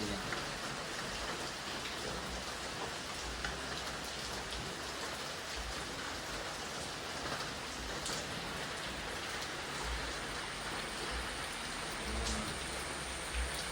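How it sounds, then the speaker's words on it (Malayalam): Steady rain pours at a hillside church compound in Kerala, a dense, even hiss of drops on surfaces with no break throughout, moderately quiet and unaccompanied by voices. "മഴ ആസ്വദിക്കാൻ വേണ്ടി നമ്മൾ മേളിൽ വന്നതാണ്"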